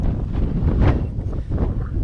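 Wind buffeting the microphone beside a dam lake in Tajikistan, a loud, close, gusty low roar that swells and eases in waves.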